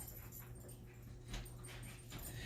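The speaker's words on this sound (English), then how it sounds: "And if you hear anything, the dogs barking and such" Dogs make faint whimpers and panting sounds at a distance in a quiet home, scattered and soft over a low, steady hum.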